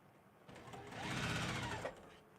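A sewing machine stitching quilt pieces runs in a steady close whirring burst, rising in speed then stopping, heard alone without talk.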